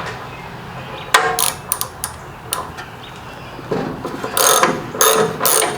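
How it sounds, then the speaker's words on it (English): Mini ratchet clicking as it works a rusted spark plug loose from the head of a 1980s Chevy S-10, in close, sharp bursts of ratcheting: scattered clicks early, then rapid dense clicking runs toward the end, with no talk. "Trying to use a mini ratchet"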